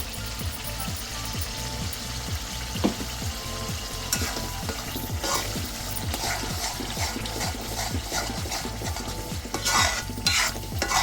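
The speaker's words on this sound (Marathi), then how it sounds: "आता हे कांदा टोमॅटोच्या पेस्टला तेल सुटेपर्यंत हे मिश्रण आपण भाजून घ्यायचं आहे" Onion-tomato paste frying in oil for chana masala, stirred steadily with repeated rhythmic scrapes over a continuous close sizzle, with no voices.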